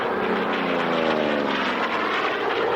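A carrier-borne fighter with folding wings and a Pratt & Whitney radial engine drones past at an airshow, its loud propeller growl holding steady and shifting slightly in pitch as it passes.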